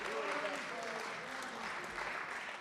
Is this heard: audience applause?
yes